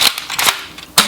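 Ceda Model S dart blaster from Jet Blaster firing foam darts out of the box: three sharp, close pneumatic pops, two in quick succession near the start and a louder one at the end, with no talk.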